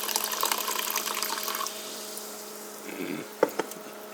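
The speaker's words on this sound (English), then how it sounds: "And then you put in the club soda into this cup." Club soda poured into a cup, a soft fizzing trickle of liquid that tapers off, then a couple of faint clinks near the end, quiet and close with no talking.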